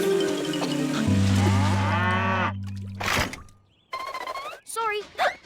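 Cartoon cows moo in a long low drawn-out call, loud and close, followed by animated character voices talking and hiccuping.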